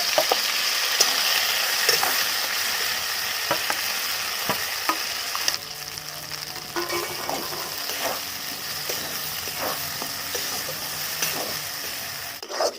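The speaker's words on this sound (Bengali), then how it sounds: "এবার আমি মটরশুঁটিটাকে একটু কষিয়ে নেব" Green peas being sautéed in ghee for kochuri filling, a steady close sizzle with repeated scrapes and knocks of a spoon stirring the pan, continuing throughout with no talk.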